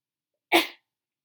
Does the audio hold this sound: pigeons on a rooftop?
no